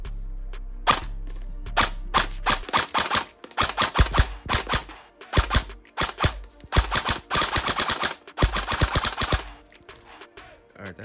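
Airsoft gun shots fired through a chronograph, rapid sharp cracks in quick bursts and single shots separated by short pauses, close and loud.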